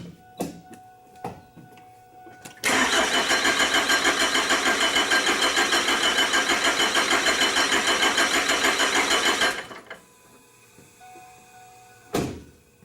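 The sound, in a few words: Cummins 4BT diesel engine cranking and firing in Ford Expedition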